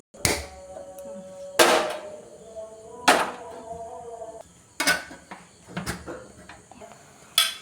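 A metal pot set down on a home kitchen stove, sharp clanks and knocks spaced a second or so apart, with scraping and rattling between them, close and fairly quiet.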